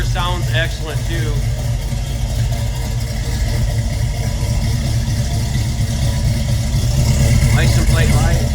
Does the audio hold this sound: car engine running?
yes